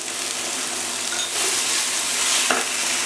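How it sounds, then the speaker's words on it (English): Onions and garlic fry in olive oil in a pan over medium-high heat, a steady close sizzle with a few stirring scrapes and a brief clink near the end, with no voices. "Just add the onions and the garlic."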